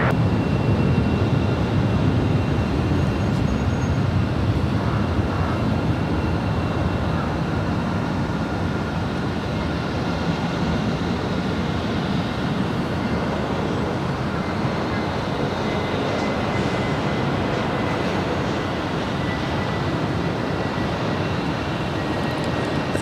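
An Airbus A321neo airliner on approach to land at Los Angeles LAX sends a steady, broadband engine roar that stays loud and even throughout, with no talk.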